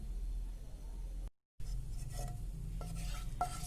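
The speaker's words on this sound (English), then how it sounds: "As the oil gets heated, I have added the panch phoron and sauteed them" Panch phoron seeds sauté in heated oil with a soft sizzle and light crackle. A brief silent gap breaks it up, and a few faint metallic clinks of a utensil sound near the end.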